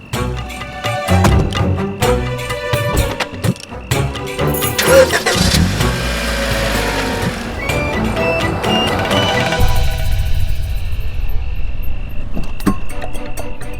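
A repaired car's engine cranks and catches, then settles into a steady, fairly loud running hum that persists to the end, with no talking over it.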